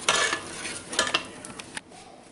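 A pot of mesquite bean jelly at a full rolling boil is stirred continuously with a utensil, giving close, busy scraping and clinking against the pot over a bubbling boil for a couple of seconds, with no talking.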